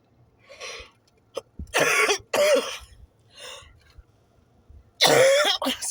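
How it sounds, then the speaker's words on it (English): A man coughs several times in short bursts, with harsh throat clearing between them, close and loud against a quiet background. "I don't know how to scratch my throat. I just cough."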